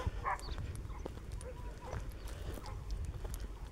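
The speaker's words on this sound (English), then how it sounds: "I have dogs up here acting cray-cray." Dogs bark in short, faint yips and barks indoors, scattered across a few seconds beneath low background noise.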